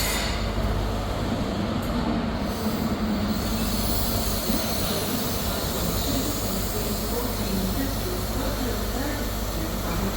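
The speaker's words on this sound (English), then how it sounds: "Arriving in now is the 1505 ScotRail service from Aberdeen to Glasgow Queen Street" ScotRail service from Aberdeen to Glasgow Queen Street pulling into Perth station, loud continuous rumble of wheels on rails with squealing and clatter, close by, with some faint talk in the background.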